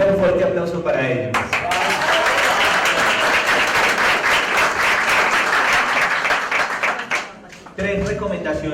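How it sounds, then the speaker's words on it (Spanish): An audience at a talk on young journalism in television and social media bursts into loud, sustained applause that swells and fills the room for several seconds before tapering off, with speech before and after. "primero un fuerte aplauso para ellos."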